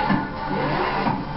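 A Lamborghini Centenario in Forza Horizon 3 revs with a steady, loud mid-pitched engine drone that swells slightly, heard up close with no talking.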